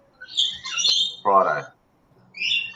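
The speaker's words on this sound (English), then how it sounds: "Sorry about the birds." Birds chirp and squawk nearby in short bright bursts around an empty building being prepared for a move, with a voice briefly in between.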